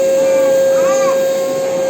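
Electric vacuum cleaner runs with a loud, steady motor whine and a strong constant tone over airy hiss, unbroken for the whole two seconds.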